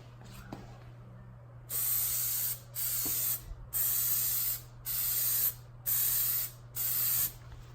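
A spray can lays a Plasti Dip coat onto Honda Accord emblems in six steady hissing bursts of about a second each, separated by short pauses, loud and close over a low background hum.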